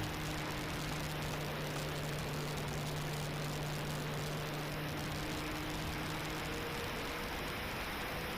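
An FMS Pilatus PC-21 1100mm RC model plane flies at full throttle, its propeller drone holding as a steady, fairly distant whine over faint outdoor wind hiss with no voices.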